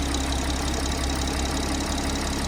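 A B58 engine with a hybrid turbo, around 200k miles, runs loud and steady at close range, a dense continuous drone with a rough knocking texture, no clear rise in pitch from revving.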